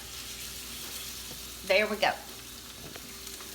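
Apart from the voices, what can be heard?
food sizzling in a pan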